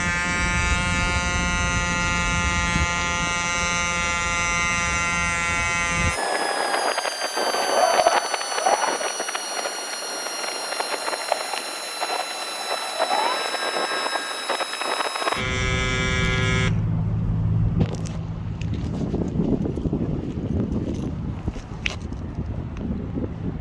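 A CYCPLUS AS2 Pro electric bike pump inflates a tire. A steady whining motor drone with shifting pitch runs throughout, broken by noisy rushing stretches, with a voice talking in places.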